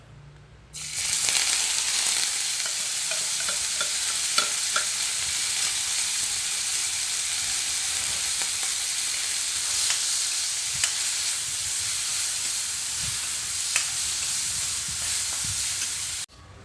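Frog meat stir-frying in a hot wok for a spicy Thai dish, a loud continuous sizzle and hiss up close with occasional spatula scrapes and pops, no voices.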